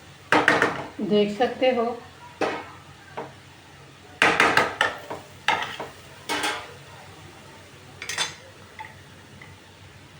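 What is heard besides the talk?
stirring potato and cauliflower in a pan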